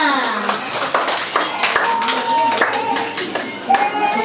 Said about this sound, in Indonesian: tepuk tangan untuk singa